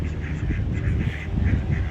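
Ducks quacking at a holiday park resort in Hunstanton, a run of repeated nasal quacks in an uneven rhythm, close and fairly loud, with no talk.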